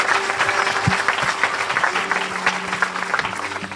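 A church congregation in Evry claps steadily together, a dense, even wash of applause that holds at one level throughout, with faint voices mixed underneath.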